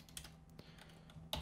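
Computer keyboard typing code in Unity, a quick run of soft, close key clicks, quiet and alone with no voice.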